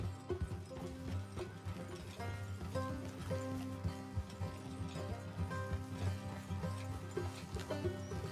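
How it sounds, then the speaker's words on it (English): Horses trot along a road in the video game Red Dead Redemption 2, their hooves clip-clopping in a steady rhythm beneath a dense bed of music and other game sounds. "Let's leave the horses here and go the rest on foot"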